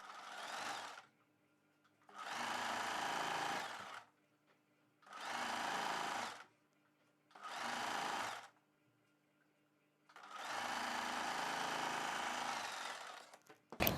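Sewing machine stitching a prince-cut kurti, running in five separate bursts of steady whirring, each lasting one to three seconds with quiet pauses between, close and clear.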